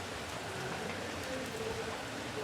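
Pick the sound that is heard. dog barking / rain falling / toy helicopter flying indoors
rain falling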